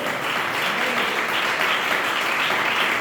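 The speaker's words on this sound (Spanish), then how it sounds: "Denle un aplauso fuerte a nuestro Dios." A church congregation claps loudly and steadily throughout, a thick wash of many hands at a constant level with no distinct voices.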